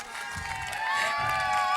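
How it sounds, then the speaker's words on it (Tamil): A crowd at a Pongal celebration event cheers and claps loudly, with shouting voices and whoops swelling over the applause. "ஒரு பெரிய கைத்தட்டல் கொடுத்துடலாம் நண்பர்களே"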